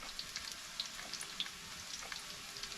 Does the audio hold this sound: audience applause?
no